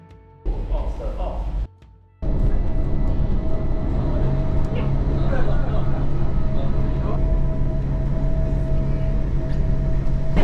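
Interior of a train in Switzerland, with a steady low rumble and rolling rail noise that kicks in after a brief pause and continues loud and close, while people talk over it.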